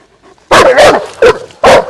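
A Kangal-mix dog barks loudly and close, four sharp barks in quick, uneven succession after a brief quiet start.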